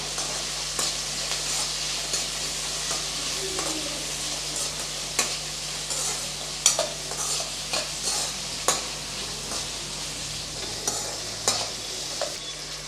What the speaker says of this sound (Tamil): எட்டு பல் பூண்டு எடுத்து வச்சுருக்கேன் அதையும் சேர்த்துக்கலாம் ரெண்டு துண்டு இஞ்சி அதையும் சேர்த்துக்கலாம் சேர்த்து நல்லா வதக்கி விட்டுறலாம்